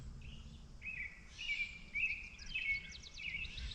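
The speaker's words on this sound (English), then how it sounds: "And you hear the birds." Birds chirp and sing outdoors around an almond orchard and food forest. Several short, bright calls repeat at a moderate distance over faint low ambient rumble, with no voices.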